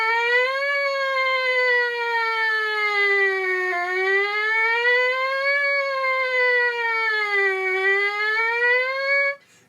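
A trumpet mouthpiece buzzes a continuous tone sliding slowly up and down in pitch like a wailing siren, loud and steady for about nine seconds before cutting off.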